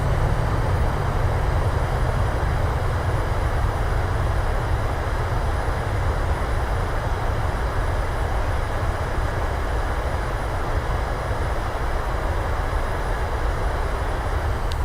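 Thrust reversers of a PMDG 737-800 roaring on landing roll in Microsoft Flight Simulator, a loud, steady broadband engine rush sustained throughout without any talk.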